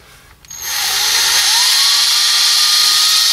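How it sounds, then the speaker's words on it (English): Power hone spinning up inside a drum brake wheel cylinder from an EH Holden, a brief click then a rising, sustained high-pitched whine with scraping metal, loud and close, no talking. "So I'm just going to give it a very light hone."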